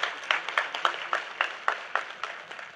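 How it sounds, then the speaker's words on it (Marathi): An audience at a hospital opening event with the state chief minister in Mira Bhayandar claps in a steady rhythmic unison beat, about four claps a second, moderately close and without talk. "हे उपस्थित आहे त्यांच्यासाठी टाळ्या वाजवा."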